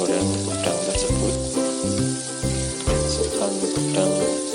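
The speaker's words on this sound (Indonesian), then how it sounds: "Kita mulai menggoreng udang tersebut." Shrimp sizzle and crackle steadily in hot oil in a wok, with a constant frying hiss under a backing of music.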